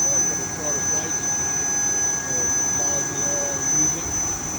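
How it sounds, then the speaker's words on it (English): A company jet airplane sits at an airport, its engines giving a steady loud whine with a high-pitched tone over a broad rumbling roar that continues throughout. "This is Dale Earnhardt's company airplane."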